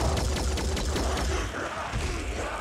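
Cannon fire aimed at a monstrous creature in the strategy game Phoenix Point, a rapid train of heavy repeated shots merging into a dense rumble, loud and steady with no voices.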